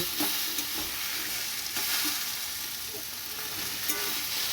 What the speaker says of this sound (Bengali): এবার আমি ভালো করে নাড়াচাড়া করে নেব